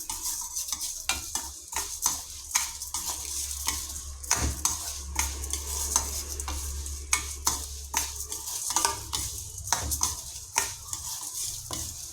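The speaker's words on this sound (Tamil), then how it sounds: "நல்லா பொன்னிறமாக வறுத்துட்ருக்கேன் நான் அந்த நெய்யோட வாசனையும் பருப்போட வாசனையும் நல்லா கமகமன் வருது எனக்கு" Moong dal roasting in ghee is stirred steadily in a pan for payasam, with a continuous soft sizzle under repeated sharp scrapes and clinks of the spoon against the metal, close and fairly quiet.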